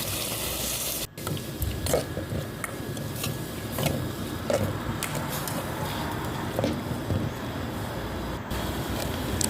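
Beef is stir-fried for an Isan aom curry with papaya, giving a constant close sizzle with scattered sharp utensil clicks and scrapes against the pan.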